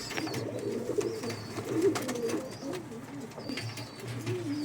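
Pigeons from a pair of high-flying racing birds, Andhra and Madras breeds, coo in a low, continuous rolling murmur, several overlapping calls close by with faint chirps above.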